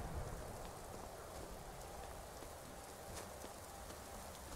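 Icy rain falling in the Skyrim game world, a steady, dense hiss of raindrops pattering on surfaces, constant and enveloping with no voices.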